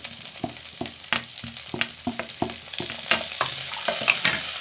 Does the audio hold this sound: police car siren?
no